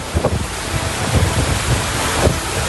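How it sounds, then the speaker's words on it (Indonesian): Strong storm wind with heavy rain at a harbor in Kuala Kampar, Pelalawan, Riau, buffeting the microphone as a loud, continuous roar with gusty surges throughout. "Angin kencang disertai hujan deras dengan begitu cepat menerbangkan atap bangunan para pedagang di Pujasera."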